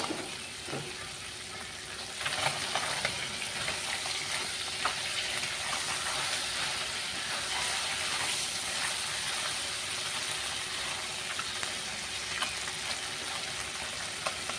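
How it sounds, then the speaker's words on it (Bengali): Fish fries in a small amount of oil in a pan, a steady close sizzle and crackle that runs throughout with occasional stirring clicks and no talking. "খুবই কম তেলেও এই মাছ ভাজা হয়"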